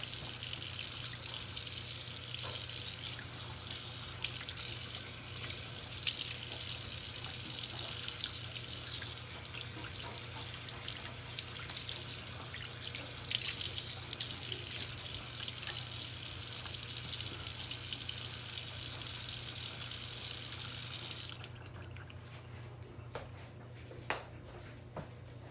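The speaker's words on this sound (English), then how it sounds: "And just give it a rinse." Running tap water splashes steadily into a sink being rinsed clean, a loud continuous hiss that shifts in intensity before stopping, leaving quiet drips and faint handling sounds.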